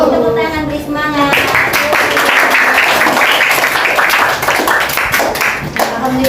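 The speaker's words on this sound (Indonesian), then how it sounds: "Tepuk tangan, beri semangat." Students in a school classroom lesson break into a burst of clapping that starts about a second in and runs steadily for several seconds, close and fairly loud, with a voice and speech around it.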